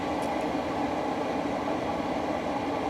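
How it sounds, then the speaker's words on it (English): Coal-laden train cars roll along a railway near a power plant between Bartonville and Pekin, giving a steady, loud, close rumble with no breaks for the whole stretch. "that's what these train cars are, is full of coal, so they can produce electricity"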